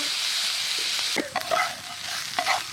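Garlic and ginger paste hits hot oil with a loud close sizzle, then spatula scrapes and clacks break in as it is stirred, brief and busy, with no speech.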